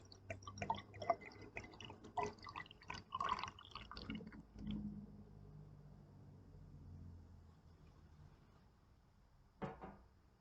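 Strong beer poured into a snifter glass: a series of gurgling, splashing pours for several seconds that trail off into quiet, followed later by a brief clink or knock.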